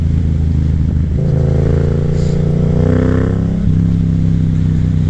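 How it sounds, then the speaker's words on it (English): Yamaha FZ07 motorcycle engine held loud and close throughout, its pitch climbing and falling through a couple of revs as the rider accelerates on an autumn ride, with no voices. "Sounds like a Harley Davidson motorcycle that revs like 3 times as fast."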